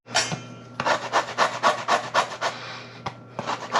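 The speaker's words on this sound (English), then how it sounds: "Went ahead and pulled out the larger grater." A large grater zests a grapefruit in quick, rhythmic rasping strokes, about ten scrapes in a row close to the mic. A short pause follows before a few more strokes, and no one speaks.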